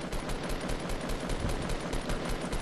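Rapid automatic gunfire in Fortnite, a dense, continuous rattle of shots in quick succession, loud and close with no talking over it.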